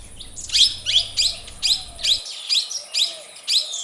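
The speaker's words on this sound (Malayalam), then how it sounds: "ഈ ഇന്ത്യൻ മഞ്ഞക്കിളി പൂവൻ പക്ഷി കടന്നു വരുന്നത്" A male Indian golden oriole calls in a steady series of about eight bright, clear whistled phrases, evenly spaced and fairly close, with no other sounds.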